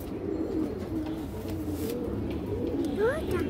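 Ring-eyed pigeons kept for sale give low, continuous cooing under steady background noise, followed near the end by a few brief rising chirps.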